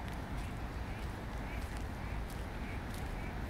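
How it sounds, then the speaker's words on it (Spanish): Ducks quack repeatedly against a rough, noisy outdoor background, fairly faint and with no talking. "Ahí está la familia Pato."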